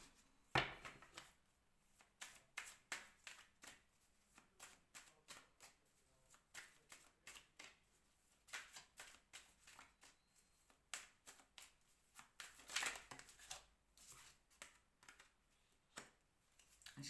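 Oracle cards are shuffled by hand, giving soft, quick papery flicks and riffles in irregular bursts, faint and close with no talking.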